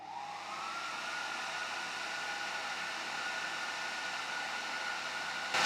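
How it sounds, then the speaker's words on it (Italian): A hair dryer powered through a BLUETTI AC500 power station's inverter near its 4500-watt rating blows with a steady, close, continuous whooshing hum throughout. "io voglio provare a far saltare l'inverter usando l'asciugacapelli"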